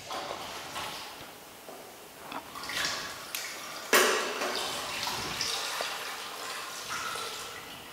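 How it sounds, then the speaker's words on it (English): Water poured into the storage chamber of a center-of-pressure lab apparatus, faint splashing and trickling with a few sharper drips and knocks, fairly quiet and uneven, with no voices. "Water is added to the storage chamber."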